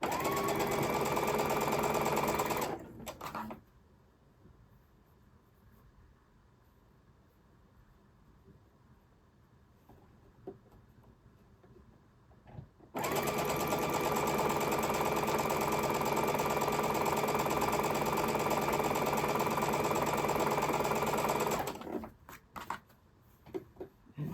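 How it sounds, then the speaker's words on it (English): A sewing machine stitches around a quilt block in two long, loud, steady runs with a quiet pause of about ten seconds between them and a few faint clicks at the end. "Make sure you are going around the block so that you're not sewing into the center of the block."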